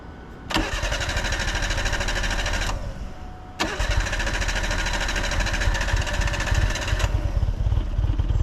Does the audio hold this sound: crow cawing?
no